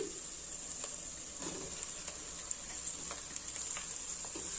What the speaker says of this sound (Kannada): ಈರುಳ್ಳಿ ಸ್ವಲ್ಪ 2 ನಿಮಿಷ ಫ್ರೈ ಆಗಲಿ. ಈಗ ಇದು ಫ್ರೈ ಆಗಿದೆ. ಇದಕ್ಕೆ ಮ್ಯಾಶ್ ಮಾಡಿರೋ ಆಲೂಗಡ್ಡೆ ಹಾಕ್ಕೊಂತೀನಿ